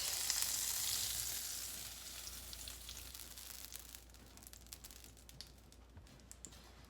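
Cornbread batter hits a hot cast iron skillet with a bright, hissing sizzle that is loudest at first, then settles into a quieter crackling spatter with scattered pops.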